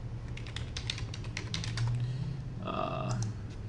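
A name typed on a computer keyboard, a quick burst of close key clicks followed by a short pause and a few more taps, with faint background hum.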